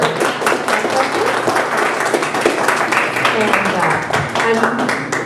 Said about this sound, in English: Please give them a round of applause for their questions.